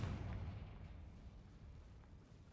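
A Confringo fire spell blasts in Hogwarts Legacy, a heavy booming burst that rumbles loudest at the start and then decays into a low, rolling roar over the next couple of seconds.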